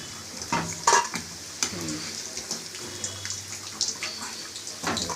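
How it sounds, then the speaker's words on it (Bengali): Paneer pieces frying in deep, hot oil for chilli paneer, making a steady close sizzle broken by a few sharp stirring clinks and scrapes in a home kitchen, with no talk. "পুরো ছাকা তেল এটা আমি আগে ভেজে নেব এইভাবে সবগুলো আমি আগে দিয়ে ভেজে নিই"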